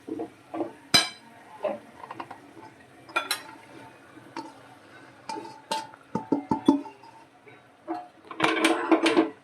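Crumbled rotlo being mixed with spices in a pot, scattered clinks and scrapes of a spoon against metal in uneven bursts, fairly close and alone.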